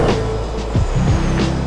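Aston Martin Valkyrie hypercar driving on a desert road through oil fields, a loud, close engine note with quick rising and falling shifts in pitch, alone with no talk.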